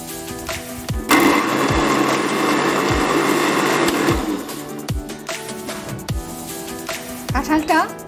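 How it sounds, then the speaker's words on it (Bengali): Mixer grinder blending ripe jackfruit into juice, a loud whirring motor burst running steadily for about three seconds, with clacks and handling noises of the jar before and after, close up. "এখানে কাঁঠালটা মিক্সারে দিয়ে জুস করে নেব।"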